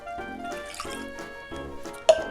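A cup of water poured into a saucepan holding quartered apricots, a short splashing pour with a bright clink near the end.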